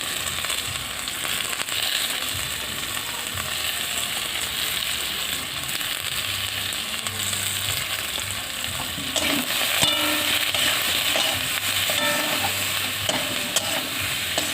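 Spices frying with salt and turmeric sizzle steadily in a pan while being stirred, a continuous close crackle with scraping clicks of the spoon growing more pronounced in the second half.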